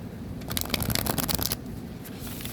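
Tarot cards being shuffled by hand, a close, brisk burst of riffling flutters that swells then settles into soft handling, with no talk.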